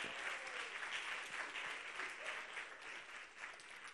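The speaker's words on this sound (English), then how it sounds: "let's give it a round of applause for our artists" At a premiere screening, the audience applauds the artists with sustained, crowded clapping that rolls on evenly without pause, fairly distant and soft in level.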